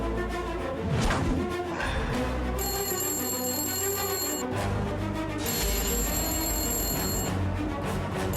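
A mobile phone left behind at home rings with an electronic ringtone in two repeated bursts, fairly clear and close, over a continuous background of music-like sound.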